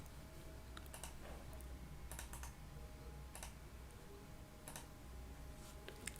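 Someone types on a computer keyboard while writing a Python script, with short clusters of clicking keystrokes spaced apart, faint and close over a quiet background with no talking.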